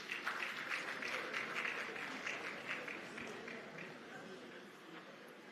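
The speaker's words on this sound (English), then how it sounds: "Please give her a round of applause." Audience applause at a business conference panel session, a broad wash of clapping that starts strong and gradually tapers off, heard from a distance and fairly quiet.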